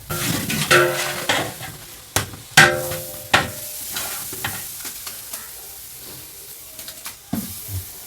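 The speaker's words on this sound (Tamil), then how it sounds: "மசாலாலாம் சேர்த்துட்டு நம்ம நல்லா வதக்குவோம்." Masala sautéing in a pan for Kerala-style chicken curry: a ladle scrapes and knocks against the pan in irregular bursts over a soft continuous sizzle, close and clear.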